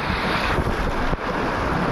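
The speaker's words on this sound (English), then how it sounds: "I love getting dunked by the rapids." Rushing water on a rapids section of a water slide at Schlitterbahn in New Braunfels, Texas, a loud, steady broadband roar close to the microphone with wind buffeting and a brief dip near the middle.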